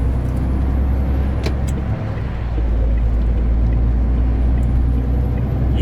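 Steady drone of a long-haul truck engine cruising on the road, a constant low rumble filling the cab with little variation and no talking.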